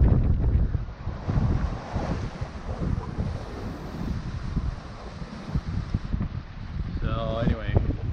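Wind and waves of 4 to 6 feet buffet a sailboat running dead before the wind across Lake Michigan at dusk, a steady broadband rush with low surging swells throughout, and a brief wavering tone near the end.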